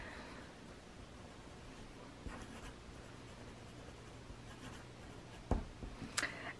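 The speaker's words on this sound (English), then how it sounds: "where's my pen? I'm going to go ahead and write on here" A pen scratches quietly across paper in a few soft strokes, faint and close, with a couple of sharper taps and rustles near the end.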